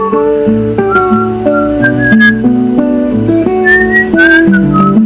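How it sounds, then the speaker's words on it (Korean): A clear, close whistled melody with sliding pitches and sustained notes, accompanied by a soft musical backing. "기분이 좋아지면 휘파람도 불 것이다."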